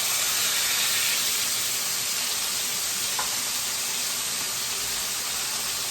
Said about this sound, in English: this grease is ready for my steak. So I'm going to put that in there as well